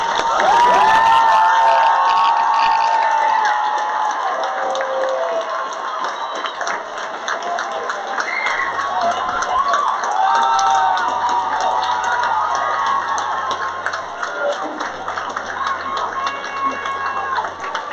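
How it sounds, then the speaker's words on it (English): Graduation audience in a theater cheering and applauding, a dense crowd roar with shouts and whistles, loud and sustained throughout, voices calling out over it. "Join me in one more round of applause for our"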